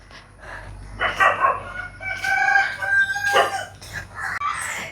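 Rooster crowing mixed with clucking hens at a household coop, several loud close calls overlapping in quick succession with a dog barking faintly somewhere behind.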